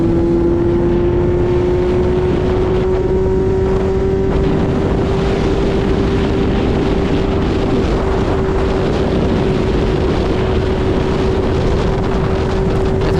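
A Kawasaki Z800 motorcycle rides through city traffic, with a loud, steady engine drone that climbs slightly at first and sits under heavy, constant wind rush.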